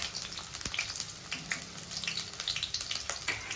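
Onions fry in hot oil with biryani spices, including bay leaf and cinnamon bark, making a crackly sizzle with scattered pops and a sharp knock near the start, with no talking.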